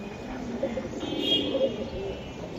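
Silver Giribaz pigeons cooing at a pigeon sale, soft low murmuring coos close by over a steady background hum, with faint chirps mixed in.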